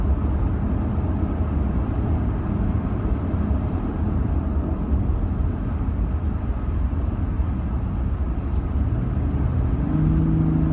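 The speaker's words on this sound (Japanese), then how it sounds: "走行音としてはタイヤのロードノイズと風切り音" Cabin of a Lexus LC500h hybrid cruising at highway speed with the engine off, a steady broadband rush of tire road noise and wind noise, constant and moderate in level.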